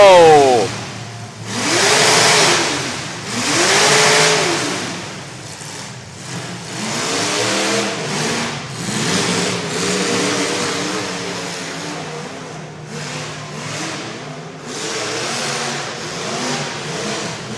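A demolition derby car's engine revs hard and labors while shifting between forward and reverse at a live track event in Corinth, Mississippi, rising and falling in loud surges, with crowd and announcer voices heard over it.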